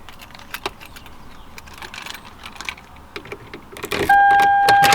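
Car keys jangle in short metallic bursts as a key goes into the steering-wheel lock of a Toyota Camry, followed by a steady electronic chime tone near the end.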